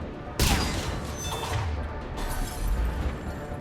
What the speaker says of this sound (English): That sounds like a turret blew up.